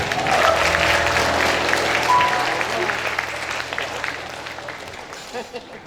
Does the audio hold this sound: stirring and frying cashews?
no